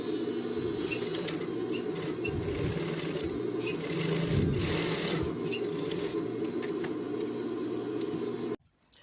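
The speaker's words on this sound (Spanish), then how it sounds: "vamos a coser por el borde" Sewing machine stitching along the folded top edge of a rain jacket pocket, a steady close mechanical whir running without pause, with faint rubbing of fabric, stopping abruptly near the end.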